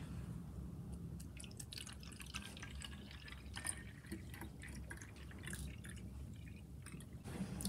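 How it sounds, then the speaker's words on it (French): Water trickles and drips into a plastic bottle at low level, a soft continuous liquid patter with small splashy bursts, close and quiet. "Je vais mettre de l'eau dans la bouteille."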